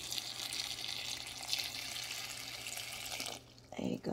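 Water poured from a tap or jug into a pot of strawberries on the stove makes a steady splashing hiss for about three seconds, then stops and is followed by a short clatter.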